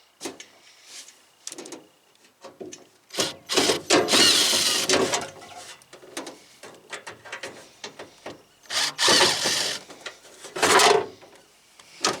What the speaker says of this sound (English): there's just 4 screws in here. It looks like I'll take those out next.